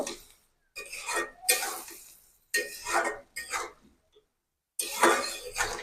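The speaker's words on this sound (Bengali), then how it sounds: "এখন আমি ঢাকনাটা খুলে একটু তরকারিটা একটু সুন্দর করে নেড়ে চেড়ে দিব।" A lid lifted and a spoon stirring and scraping through potato, onion and small fish curry in a pot on the stove, in several separate bursts of clatter and scraping with short silences between them.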